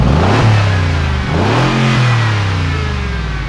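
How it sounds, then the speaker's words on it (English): Mercedes G-Wagen 4x4 Squared with side exit exhaust revving, a loud close engine rising and falling through several throttle blips over a steady rumble, no talk. "we actually have side exit exhaust on both sides"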